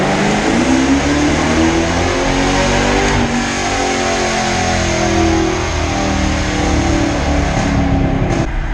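A new Ford Mustang engine revs hard on a nitrous run, a loud, sustained roar with rising and falling harmonic sweeps throughout, heard close and alone.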